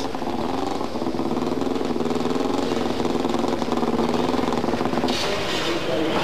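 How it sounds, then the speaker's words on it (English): A 2-litre turbocharged flat-four rally car engine running roughly, clearly ailing, as the car arrives into a service halt at the 1998 Network Q Rally of Great Britain; a continuous, rough, uneven engine drone close by, with crowd noise behind. "that flat 4 engine, not sounding at all good, arriving into service"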